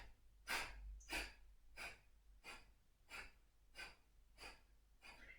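Kapalabhati yoga breathing during a gentle yoga flow: a steady series of about eight sharp, forceful nasal exhales, evenly spaced roughly every two-thirds of a second, close and clear with no talking.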